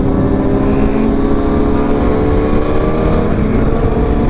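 A stock BMW S1000RR motorcycle pulling hard on a highway, a loud sustained engine roar with steady rising harmonics, heard up close over heavy wind rush with no break.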